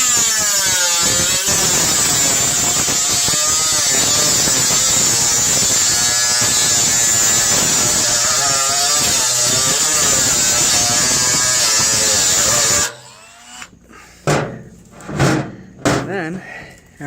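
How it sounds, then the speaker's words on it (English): A Dremel cutting head grinds a slot into a security screw, a loud steady high-pitched whine lasting about thirteen seconds, then it stops and a few knocks and handling clatters follow. "all you really need is a cutting head on a Dremel"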